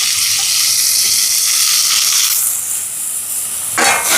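Chopped onions, green chillies and curry leaves sauté in a pan with a loud, close sizzle and hiss, punctuated by stirring, the sizzle brightening midway and a scrape near the end.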